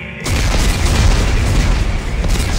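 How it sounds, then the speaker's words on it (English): Detonated explosives in the Dead Space 3 video game produce a loud, close, sustained rumbling blast that starts abruptly and keeps roaring for over two seconds. "Computer, arm explosives."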